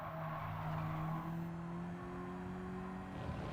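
A race car in Gran Turismo 7 brakes hard into a corner, its engine note dropping in pitch as the tires squeal steadily, then throttle picks up again at the end.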